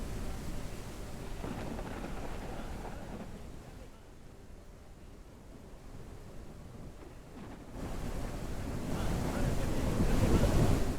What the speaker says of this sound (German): Sogar hier regnet's.